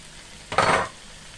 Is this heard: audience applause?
no